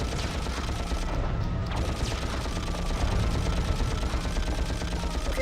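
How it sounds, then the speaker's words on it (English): Rapid gunfire and mechanical weapon clatter during a Ratchet & Clank boss fight, a dense continuous barrage of shots with clanking machinery, loud and sustained throughout. "You can move while shooting."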